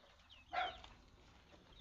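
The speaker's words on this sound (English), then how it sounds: "So we finally got a broody hen." A broody hen gives a single short cluck, faint and close, against quiet background noise.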